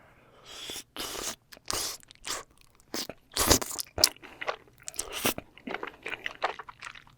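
Crunchy chewing of fried snacks eaten with sweet-spicy cheese tteokbokki at a Korean mukbang, close and loud, with repeated crisp bites and wet chewing in an uneven rhythm and no talking.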